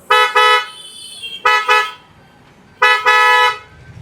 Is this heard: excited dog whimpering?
no